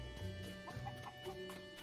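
Chickens clucking in the video game Tears of the Kingdom, several short clucks and chirps scattered over a steady, faint background of game ambience, with no talking.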